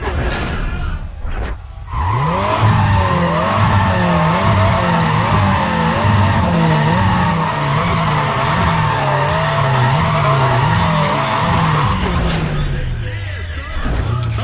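A race car engine in the video game Need for Speed ProStreet roars continuously with rising and falling revs and squealing tires, loud and steady, with a voice talking over it.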